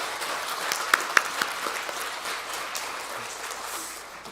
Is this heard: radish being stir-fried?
no